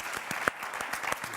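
A conference audience at a plenary session on violence against women applauds, a brief steady patter of many hands clapping in a large room, fairly quiet and distant.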